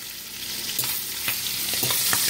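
Chicken pieces frying in a covered pan, a steady sizzle with scattered sharp pops and crackles bursting through at irregular moments, close and moderately loud with no talking.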